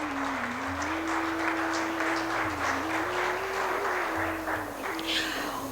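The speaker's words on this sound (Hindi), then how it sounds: "हमारे इन सभी डिजर्विंग विद्यार्थियों के लिए एक बार तहे दिल से जोरदार तालियां हो जाए।" Soft, steady clapping rises from the audience at a valedictory function and award ceremony, lying faintly under a sustained tonal drone with a low hum throughout.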